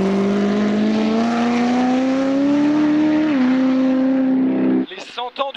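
A Fiat Multipla tuned to 1300 hp roars flat out down the Hunaudières straight at Le Mans, its loud engine note climbing steadily with a brief shift dip before cutting out, followed by talking.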